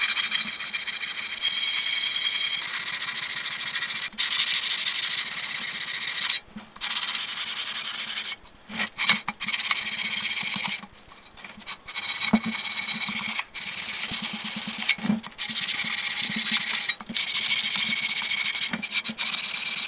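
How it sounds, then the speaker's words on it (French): Sandpaper on a block rubs back and forth over an engine gasket mating surface, loud rasping strokes in long runs broken by short pauses, with no voices. "Vous y mettez un papier de verre"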